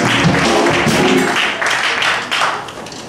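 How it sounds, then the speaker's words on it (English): A church congregation claps their hands during a worship service, brisk clapping mixed with voices and a musical tone in the first half, then continuing somewhat lighter. "Come on, clap your hands."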